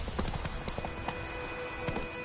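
Roach, Geralt's horse in The Witcher 3, trots along with steady rhythmic clip-clop hoofbeats on the ground, heard close and continuous over faint ambient background.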